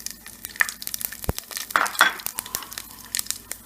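Whole spices, cinnamon stick, cloves, cumin seeds, fennel seeds and bay leaves, crackle and sizzle in hot oil, with sharp pops and crinkling bursts over a steady fry, close and fairly loud with no talk.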